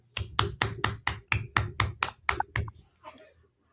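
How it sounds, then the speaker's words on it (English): Applause for a magician at a magic night, about ten loud, evenly spaced claps in a quick steady rhythm, sharp and close, then a little faint noise as the clapping ends. "Let's all give a round of applause to the Magic of Marty."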